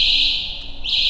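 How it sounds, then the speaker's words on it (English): A capacitive Human Detector sensor sounds a steady high-pitched electronic alarm tone when a figurine is touched, loud and continuous with a slight wavering near the end. "If I try to touch Tony, he is producing an alarm"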